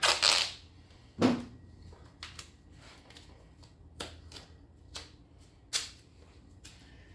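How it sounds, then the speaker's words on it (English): Duct tape pulled and torn off the roll during a fuel tank repair on a 1972 Honda Twinstar 250: a close, sharp ripping burst at the start, then scattered clicks and taps with quiet gaps, no talking. "I'm going to take a little bit of duct tape"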